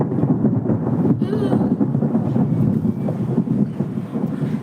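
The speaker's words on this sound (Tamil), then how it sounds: "மழை பெய்யுது பாருங்க" Steady rain pours outdoors with a low rumble of thunder and gusty wind buffeting the microphone.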